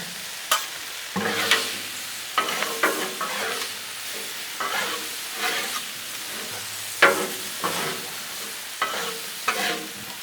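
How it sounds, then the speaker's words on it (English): Peas, carrots and onions stirred on a Blackstone flat-top griddle for a shrimp stir fry: a quiet sizzle under repeated scraping spatula strokes in uneven bursts, close and alone without talk. "We're gonna give it a quick stir."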